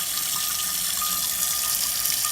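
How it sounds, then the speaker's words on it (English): Tap water pouring steadily into a cast iron pan at a kitchen sink, a continuous bright splashing hiss at even volume throughout, close and with no talking. "we got the water running into it"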